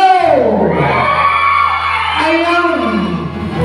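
A church congregation shouts and whoops together in a loud burst of massed voices during a worship service, the yelling swelling at the start and trailing into scattered cheering.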